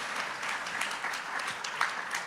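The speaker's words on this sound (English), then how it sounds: "Please, another round of applause, please, for Rigel," Applause from a conference audience at a bitcoin event, a few seconds of steady clapping heard at moderate distance and fairly quiet, with individual claps standing out.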